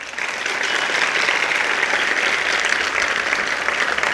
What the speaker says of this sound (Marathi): वाजवा एकदा जोरदार टाळ्या वाजवा.